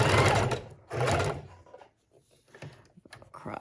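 A sewing machine stitching fabric on a handmade tag, two close bursts of rapid mechanical whirring separated by a pause, followed by quieter clicks and handling sounds.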